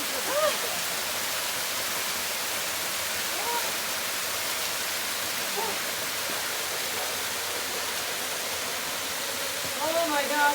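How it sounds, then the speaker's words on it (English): A full waterfall on the island of Nevis roars as a dense, steady broadband rush of falling water, close and loud throughout, with faint voices barely showing through near the start and end. "Oh my gosh, our first waterfall."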